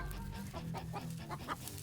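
Chickens clucking in a yard in a deep mountain area, several soft, rapid clucks in a row, faint and fairly close.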